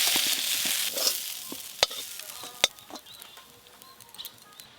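Vegetables are poured into a hot pan and fry with a moderate, fading sizzle, broken by a few sharp clinks and scattered crackles of spattering oil.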